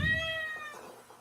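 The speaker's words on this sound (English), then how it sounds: "I know that meow." A single cat meow, clear and close, rising then trailing off within about a second.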